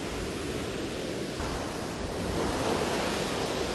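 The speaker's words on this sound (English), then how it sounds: "The waves that repeatedly surrender at the reverent feet of the saintly rock." Ocean waves break against the rock at the Vivekananda Rock Memorial. The surf makes a constant loud roar and wash that swells a little toward the end, with wind noise and no voices.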